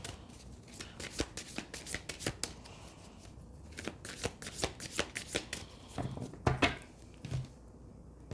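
Tarot cards being shuffled by hand, a steady run of crisp riffling slaps and soft flicks at close range, with a few louder snaps toward the end and no voices.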